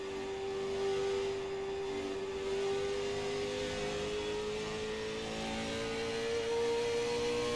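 A race car engine in a sim racing video game at Lucas Oil holds a steady high whine that slowly shifts in pitch, continuous and moderately loud with no voices over it.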